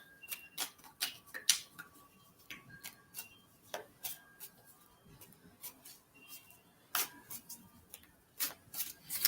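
Tarot cards being shuffled by hand in a quiet room, with repeated crisp riffles and taps coming in irregular bursts, close and fairly soft.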